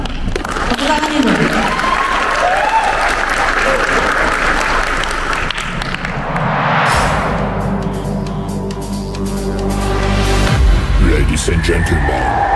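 An audience at an in-house training event for civil servants claps in a sustained, dense round of applause, loud and close, with a crowd murmur and a voice over it that swells again toward the end.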